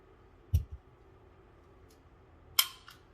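A handgun loaded with snap caps is dry-fired twice, giving two sharp, isolated metallic snaps about two seconds apart in a quiet room.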